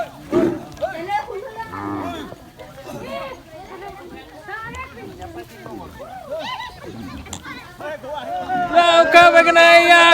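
Cattle lowing as they are washed in a river in Assam, mixed with people chattering nearby; the animal calls grow louder and fuller toward the end.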